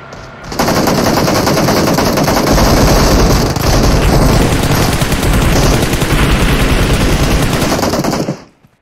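Dense, continuous automatic gunfire from the mobile battle-royale game PUBG Mobile, loud and close, rattling almost without pause for about eight seconds before cutting off abruptly.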